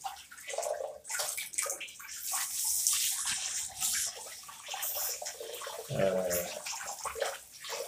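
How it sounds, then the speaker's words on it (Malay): Water gushes from a sink tap partly clogged with dirt into a basin, splashing and gurgling unevenly, with a brief louder surge near the end. "Okay, agak laju sikit air."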